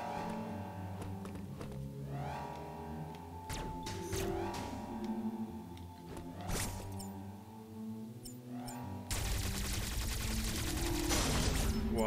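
Omega Cannon blasts in the video game Metroid Dread, a series of sharp loud weapon bursts and mechanical whirs over a droning game soundtrack, ending in a sustained roaring barrage, with no talk.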